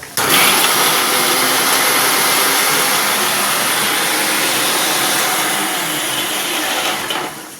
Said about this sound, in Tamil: மூணே மூணு முந்திரி போடுறேங்க முந்திரி அந்த தக்காளியோட ஓட்டி எடுத்துக்கிறேங்க